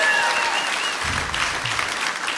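A comedy club audience at Cap City bursts into applause, a dense, close burst of clapping lasting a couple of seconds.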